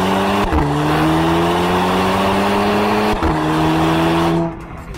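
An Audi TT engine revs loud and close, its pitch climbing steadily, breaking off briefly with a gear change, then climbing again before dropping away near the end.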